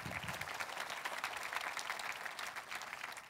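A church congregation claps together in a soft, continuous wash of applause that stays fairly distant and even throughout, without any clear voices over it.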